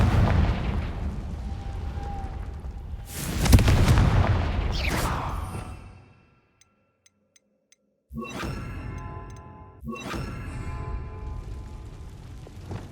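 Confringo blasting spells in the game Hogwarts Legacy erupt in loud booming explosions, a sustained roar that cuts off into near silence, then returns as further crackling bursts with ringing debris.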